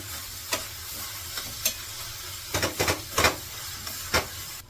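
Greens and spring onions are stirred in a frying pan as a dry vegetable dish cooks, a steady soft sizzle broken by several brief scraping strokes of the spatula, close and moderately quiet, with no talking.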